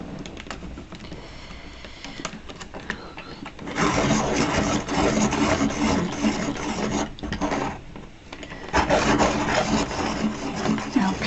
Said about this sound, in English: this is the time to sharpen it